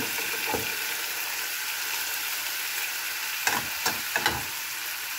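Chicken pieces frying in a pan for chicken mechado produce a steady, moderate sizzle, joined near the end by a few sharp clinks of a utensil against the pan.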